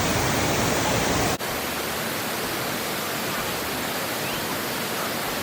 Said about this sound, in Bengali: চলো তোমাদেরকে এই জলের শব্দটা শোনাই, তাহলেই তোমরা বুঝতে পারবে যে এখানে জলের স্রোতটা কতটা ছিল।